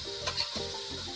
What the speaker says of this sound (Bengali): এই মশলা একটু ভাজা হবে